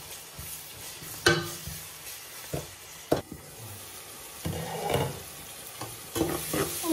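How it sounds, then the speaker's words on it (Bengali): Onions fried with salt sizzle quietly in oil in a pan, punctuated by several sharp scraping stirs of a spoon at irregular intervals. "পেঁয়াজটা খুব সুন্দর করে তেলের লগে ভাজা হয়ে গেছে"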